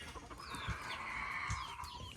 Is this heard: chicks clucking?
yes